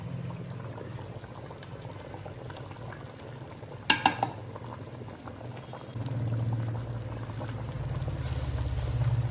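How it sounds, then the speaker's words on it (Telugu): Fish curry (chepala pulusu) simmers in a pot, a low steady bubbling that swells louder in the second half, with a sharp clatter of a utensil midway, close and fairly quiet. "ఇది కొంచెం మసలాలి."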